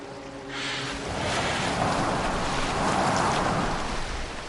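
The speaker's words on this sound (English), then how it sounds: "Are you well enough to steer this boat?" A Viking longship sails across open water in Assassin's Creed Valhalla, with a loud, steady rush of waves, wind and rain-like noise that swells slightly and runs continuously without talk.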